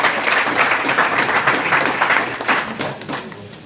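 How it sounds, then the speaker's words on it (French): A crowd applauds at a closing ceremony for a digital inclusion training in Ndiaganiao, a dense, even burst of clapping lasting a few seconds and close and loud throughout. "Et particulièrement à notre point focal, Fatoumata Dieng, que je vous demande d'applaudir."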